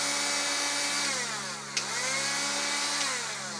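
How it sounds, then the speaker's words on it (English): A repaired minidrill motor spins up, its high whine gliding in pitch as the speed changes, with a short sharp click midway; steady and close, no talk. "I'm going to hold the motor because when it starts, the inertia might kick it out of the thing."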